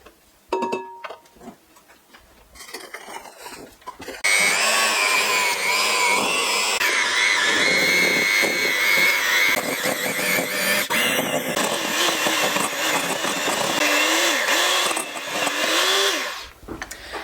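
Butter and sugar are whisked for a vegan strawberry cake, a loud buzzing electric-mixer drone that kicks in after a few seconds of quieter handling noises and runs on steadily before easing off near the end.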